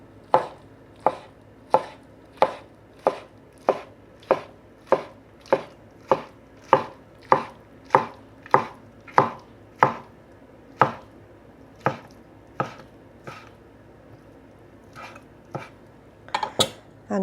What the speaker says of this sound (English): roll the egg like so and cut it as thinly as you can